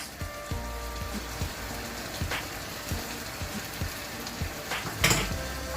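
Pork menudo frying in a pan as oyster sauce goes in after soy sauce and brown sugar, a steady close sizzle with periodic soft thumps and scraping stirs, plus a brief sharper clatter near the end.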